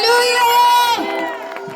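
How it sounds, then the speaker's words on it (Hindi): At a Christmas program in Himachal, a close, loud audience bursts into cheering and whooping, with a sustained shout that drops off after a second into scattered voices. "हम एक बार दोबारा फिर ताली बजाकर स्वागत करें जोर से।"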